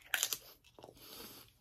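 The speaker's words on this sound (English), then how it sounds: "I'm going to have another chip and cheese." Crisp, close crunches from biting into a tortilla chip topped with cheese, a quick cluster of sharp bites followed by softer, quieter chewing, with no talk.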